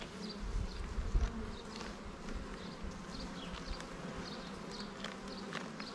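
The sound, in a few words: black honeybees buzzing around an open hive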